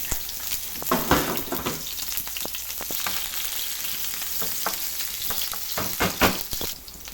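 Onion and garlic frying in a pan with zucchini for a shrimp tagliatelle, giving a steady close sizzle throughout, broken by occasional clicks and scrapes of stirring.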